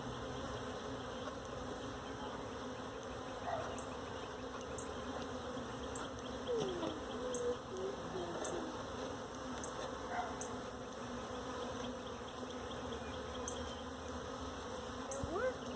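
A hive of honeybees buzzes steadily during an inspection, a dense continuous drone close by with occasional individual bees passing near, and no talk.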